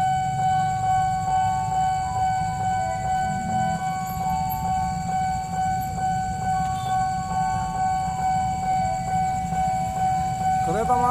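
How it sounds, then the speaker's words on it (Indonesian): A KRL commuter train rumbles past nearby while a level crossing signal keeps ringing steadily above the heavy, continuous noise. "KRL masuk dari arah Cikoreng menuju Kampung Benten."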